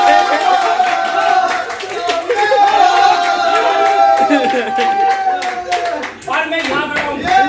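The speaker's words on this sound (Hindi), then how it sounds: "जहां आज आप ताली बजा रहे हो" A network marketing seminar audience claps, dense and continuous, loud and close, with chatter mixed in and a brief dip before the clapping resumes.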